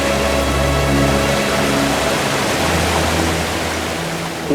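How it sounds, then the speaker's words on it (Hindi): A waterfall high above a spot in the hills roars as a steady, dense wash of noise, loud and continuous throughout with no talking, a low rumble fading after the first moment. "तो झरना देख रहे हैं ना?"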